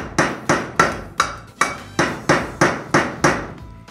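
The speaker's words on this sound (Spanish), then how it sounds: "es un plato que es capaz de clavar, o sea, hace las funciones de martillo. Miren ustedes, está martillando" A ceramic plate used as a hammer strikes a nail again and again, nine sharp, evenly spaced hard knocks about half a second apart, near and clear with no talking over them.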